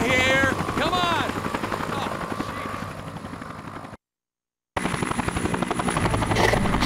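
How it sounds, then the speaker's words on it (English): News helicopter flying in a Dead to Rights cutscene, a steady rotor thrum under an excited voice, briefly cut to silence before the chopper noise returns loud and continuous. "News chopper. Right across from you."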